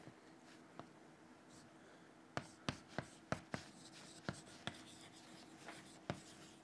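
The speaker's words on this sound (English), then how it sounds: "let me write it down in words" Writing on a board during a lecture: faint, close, scratchy strokes and sharp taps in an irregular burst of about a dozen marks over a quiet room.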